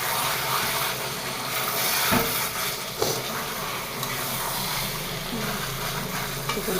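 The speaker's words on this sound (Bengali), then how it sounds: "আর এই চিকেনটা কষাচ্ছি এখানে।" Chicken sautéing in a pan with a steady sizzle and hiss, occasional stirring scrapes and clinks rising above the frying noise, a few faint voices in the background.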